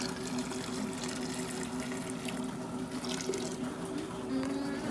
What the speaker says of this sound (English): And then we have to mix it all with